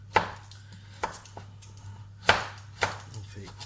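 Carrots being cut in half with a knife on a cutting board, four crisp chops spaced about a second apart over a low steady hum, close and clear with no one speaking.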